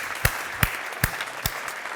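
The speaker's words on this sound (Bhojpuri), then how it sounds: "तो एक बार ताली बजाई लोगन फिर से।" Short bursts of audience clapping at a Bhojpuri talk show, four sharp claps spaced evenly over two seconds with a low murmur between them.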